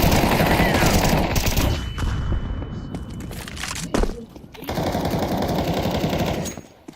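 Heavy automatic gunfire in CS:GO as a grenade is thrown, loud sustained bursts of shots with a short lull and a sharp thud near the middle before firing resumes.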